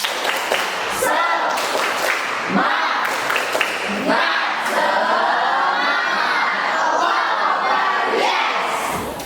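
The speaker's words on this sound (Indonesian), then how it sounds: "Tepuk semangat." A school class does a spirited clapping cheer, loud rhythmic claps mixed with children's shouting and chanting voices in a bright crowd sound that runs for about nine seconds with brief dips between bursts.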